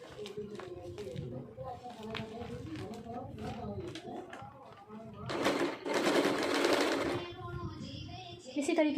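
Sewing machine stitching folded fabric for a multipurpose organizer pouch, running in bursts that grow loudest near the end, heard under a person talking steadily throughout.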